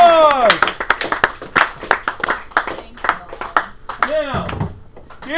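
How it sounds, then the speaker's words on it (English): A class claps after a song about rocks, with scattered, uneven claps and sharp taps mixed with lively voices calling out and cheering nearby. "Round of applause!"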